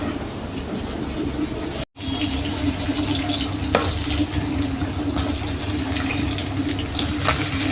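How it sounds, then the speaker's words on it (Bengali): Fish fries crisp in hot oil, a continuous close sizzle and crackle with a brief cut near the start, without anyone speaking. "মাছটা কড়া কড়া করে ভাজা হয়ে গেছে"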